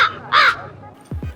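A crow caws twice, sharp and harsh, followed by two low thuds, all fairly close with quiet gaps between.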